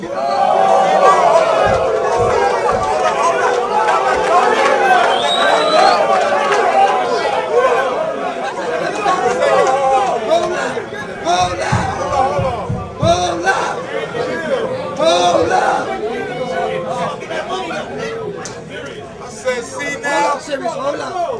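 A rap battle crowd roars and chatters loudly and continuously, a dense babble of many voices with shouts rising and falling throughout.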